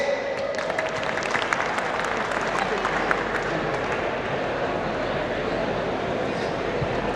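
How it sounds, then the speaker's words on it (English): A crowd at a college annual fest applauds a performer, a dense wash of clapping with sharper individual claps early on, fairly distant and steady throughout. "Can we have a big round of applause for our next performer, Akhilesh"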